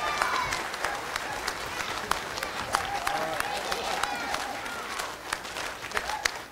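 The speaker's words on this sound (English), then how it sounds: "Let's give them a round of applause." Audience at a Patch Club award concert breaks into sustained applause with scattered sharp individual claps and a low crowd murmur, mixed with some talk.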